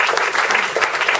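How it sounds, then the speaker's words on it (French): An audience at a professional conference claps steadily for a first-time speaker, a dense, continuous patter of many hands held at a fairly loud, even level from start to finish. "J'aimerais qu'on l'applaudisse parce que c'est la première fois qu'il fait une conférence."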